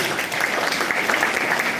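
A brief burst of crowd applause for a chief guest at an International Women's Day celebration at an institute, fairly even and continuous over its short span.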